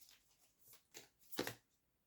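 A deck of tarot cards is shuffled by hand in a few quick, soft riffling bursts, close and quiet, with the last flurry the loudest.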